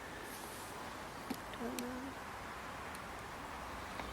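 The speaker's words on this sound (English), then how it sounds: "Heard an owl." Owl hooting at night near a church, a faint, brief low call set against a quiet hiss, with a few soft clicks around it.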